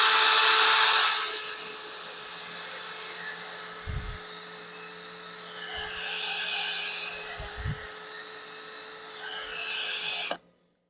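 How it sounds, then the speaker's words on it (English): A wooden bottle stopper spinning on a wood lathe while being sanded with 300 grit paper: a steady motor whine with a soft rasping hiss that rises and dips as the paper touches, then the machine cuts off at the end. "We're done with 220, and we'll go ahead and run through 300 real fast."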